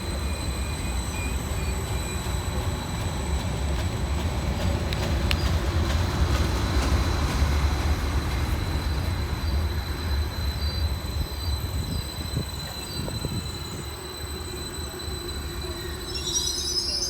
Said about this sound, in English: Departing over on the far side is 153926, with the 1515 Transport for Wales service from Caerphilly through to Penarth.